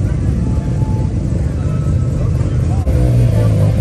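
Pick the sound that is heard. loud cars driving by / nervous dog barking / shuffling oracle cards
loud cars driving by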